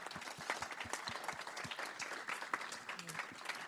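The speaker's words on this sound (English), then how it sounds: "Let's give them a round of applause" A conference audience gives a steady round of applause, dense clapping that runs evenly for a few seconds, with a speaker's voice partly heard over it.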